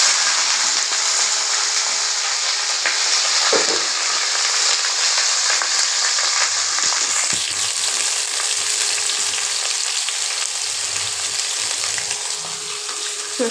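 Boiled aubergine, potato, pointed gourd and bottle gourd greens fry in hot oil in a kadai, giving a loud, continuous close-up sizzle with occasional stirring.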